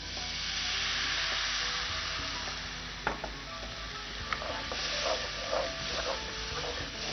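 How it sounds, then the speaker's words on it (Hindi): Potato pieces fry in hot oil in a pan for aloo chole, a steady broadband sizzle with a few faint clinks of a spoon stirring, no voices. "ये जो आलू हैं ये पक रहे हैं तेल के अंदर"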